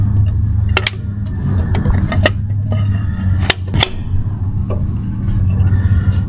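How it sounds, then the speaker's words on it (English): An old 1970s-era Peterbilt 358 with a two-stroke engine, abandoned for 40 years, being barred over by hand: sharp metallic clanks and ratchet clicks from the bar, spaced irregularly over a low steady background hum. "We're going to bar this engine over to make sure that it's free."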